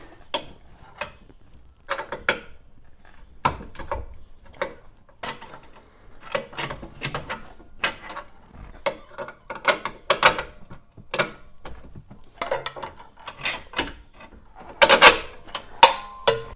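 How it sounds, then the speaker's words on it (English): A pry bar levering a new control arm back and forth on a 2006-10 Dodge Charger R/T suspension makes repeated sharp metallic clunks and scrapes in uneven bursts, close and fairly loud, with short quiet pauses between moves and no talking. "take a pry bar so that you can swing the control arm back and forth like this to get those holes to line up"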